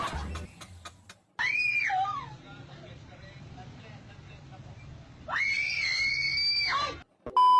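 A person letting out two long, shrill screams, each rising sharply then holding before falling away, with a quieter stretch of murmuring between them and a brief voice at the end.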